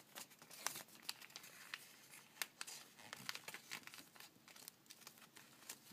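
Sheets of origami paper being folded in half and creased for a paper chair give off sharp crinkles and rustles, near and fairly quiet, in irregular bursts with no talking.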